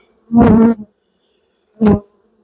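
Two short bursts of close honeybee buzzing from a queenless hive, like a bee flying past the microphone, separated by a second of silence.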